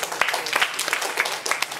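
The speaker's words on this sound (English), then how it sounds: "Honestly, we should give her a round of applause as well." Classmates clap briefly for a student after a language exercise, a short patter of scattered hand claps close by in a classroom, with faint talk mixed in.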